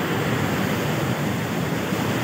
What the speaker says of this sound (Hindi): यहाँ पे आपको दिख रहा होगा मेरे पीछे जितना ज़्यादा पानी का बहाव है, इसे कोयल नदी बोली जाती है।